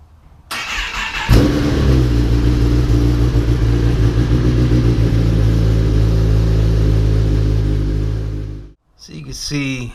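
A 2015 Kawasaki ZX-10R motorcycle engine cranks, fires up and runs at a steady, loud, close idle for several seconds, then cuts off abruptly before a voice speaks briefly.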